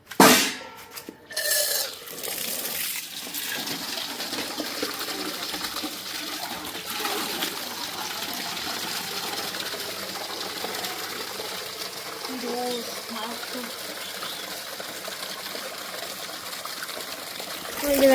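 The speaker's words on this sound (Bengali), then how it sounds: "জল ভরা হয়ে গেছে কমপ্লিট" Water pours into a bucket for a morning bath, a steady rushing gush close by that keeps going throughout, with a few clanks at the start and a voice briefly near the end.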